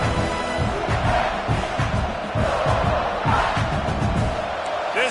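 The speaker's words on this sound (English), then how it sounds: "These fans are going absolutely nuts." Stadium crowd in a football video game roars steadily throughout, a dense, loud wall of cheering and yelling fans that swells and surges without letup.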